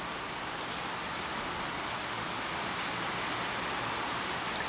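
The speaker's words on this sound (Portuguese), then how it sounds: "Vocês estão ouvindo, gente, o barulho da chuva?" Rain falls steadily in an even, hissing wash, close and continuous from start to finish with no voices over it.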